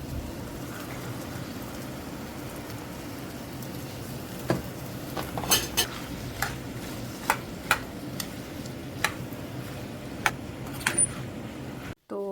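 Mung beans stirred into a cooking pan: a steady low hiss runs throughout, with scattered sharp spoon clinks against the pan coming in irregular bursts through the middle stretch.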